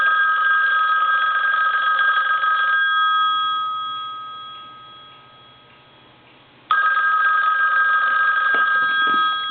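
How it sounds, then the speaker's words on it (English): An ITT rotary desk telephone bell rings loudly and continuously, then stops for several seconds before ringing again, a bright metallic jangle with no voices. "And so what we're going to do is ring it."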